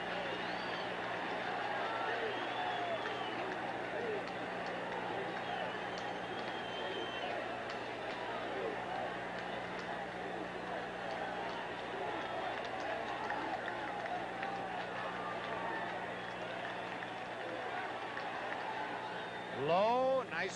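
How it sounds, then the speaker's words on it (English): A baseball stadium crowd at a 1977 New York Yankees game roars in a steady, distant wash of yelling and chanting that fills the background behind a broadcaster's voice throughout. "the crowd starting to yell, defense, defense."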